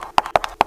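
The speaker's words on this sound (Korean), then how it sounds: "무언가가 쫓아오는 발소리가 들려왔다." Three sharp, hard-soled footsteps in quick succession, close and distinct, like someone hurrying along a hard floor.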